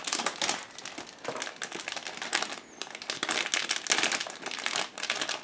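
Tightly packed plastic sprues from a Miniart 1/35 US armoured bulldozer model kit are opened with scissors, giving a continuous, close crinkling and rustling of plastic bags with no talking.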